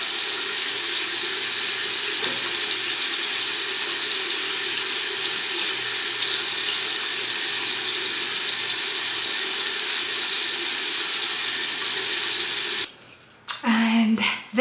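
A tap runs steadily into a sink while someone washes their face with water and black African soap. The flow is loud and close for most of the time, then stops and gives way to brief splashes and handling at the end.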